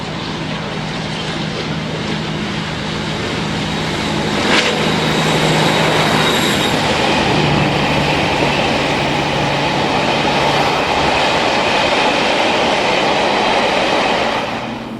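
A GB Rail Freight diesel locomotive hauls a train of empty stone wagons at Kibworth Harcourt, a loud, sustained engine roar with rumbling wagons and rail noise building and holding close by, no voices.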